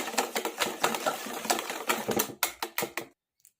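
A hand whisk stirring chocolate cake batter in a bowl, making rapid, close rhythmic clicking and scraping strokes that stop abruptly near the end.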